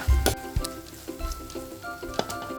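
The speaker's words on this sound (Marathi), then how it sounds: "गॅस बारीक करायचा आणि कोरडे मसाले घालायचे" Turmeric, asafoetida, Malvani masala and garam masala sauté over low heat in a pan for prawn cashew masala, with soft sizzling under irregular thuds and scraping strokes close by.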